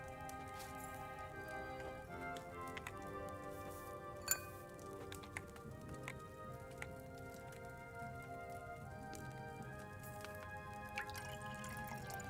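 Liquid pours into an alchemy cauldron in Kingdom Come Deliverance II, a faint steady stream with scattered drips and light clinks over a soft, continuous tonal game background, with no voice.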